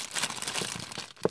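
Plastic bag crinkling and tearing as a toy F-16 Fighting Falcon pullback plane model is taken out of its packaging; a brief, close, busy rustle with a sharper crackle near the end.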